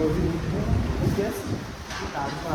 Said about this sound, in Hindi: बारिश हो रही है, बारिश बहुत तेज